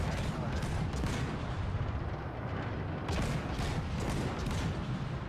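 Warship guns fire in World of Warships as a run of heavy booms and rumbling salvos over dense, continuous battle noise, with a faint voice underneath.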